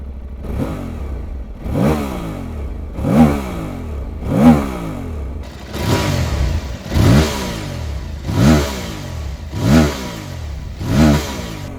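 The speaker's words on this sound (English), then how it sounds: "What a lovely sounding parallel twin." A 2025 Aprilia Tuareg 660 parallel-twin motorcycle accelerates hard, with about eight rising revving surges in a regular rhythm, each climbing then dropping, loud and close with gritty exhaust and wind noise between pulls.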